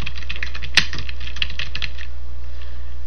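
Keystrokes on a computer keyboard during a software tutorial, several soft clicks spread over a few seconds with one sharper key hit early, heard close and alone with no talk.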